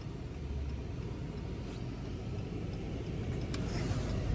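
A Dodge Challenger driving on the road, a steady low engine and road rumble from inside the car that swells slightly toward the end, with no talk over it.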